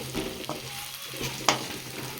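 Mutton fry sizzles steadily in a pan as a spoon stirs it with added spice powders, a few scraping strokes standing out over the continuous close frying hiss.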